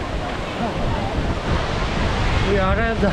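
Strong wind roars across the exposed top of Sigiriya lion rock in Sri Lanka, a loud continuous rush buffeting the microphone, with a person speaking briefly over it.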